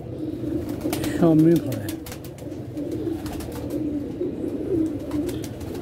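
Pigeons coo softly over a steady background hum, with a voice speaking briefly partway through; a couple of low warbling coos stand out near the middle and end.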